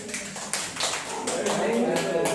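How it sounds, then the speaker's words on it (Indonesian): Audience applause fills a classroom-style teacher workshop, a dense patter of many hands clapping steadily at moderate loudness with voices talking over it. "Kasih tepuk tangan."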